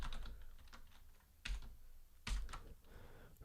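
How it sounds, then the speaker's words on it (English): Brief run of keystrokes on a computer keyboard while coding, close and quiet, with a few louder clacks standing out between softer taps. "Let me just type an X here."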